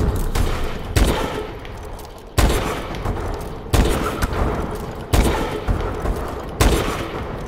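Heavy gunfire in a shooting video game, sniper-style play, with loud booming bursts landing about every second and a half over a dense, continuous rumble of weapons fire.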